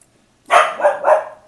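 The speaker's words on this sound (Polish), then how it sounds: "O, mój pies się awanturuje." A dog lets out three quick, loud barks in close succession, near and clear against an otherwise silent room, with no one speaking.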